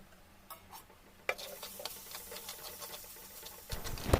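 Chilli powder frying in oil with ginger-garlic paste for a prawn gravy, a soft sizzle with light scraping and tapping from stirring, quiet at first then a sharper crackle and closer clatter at the end.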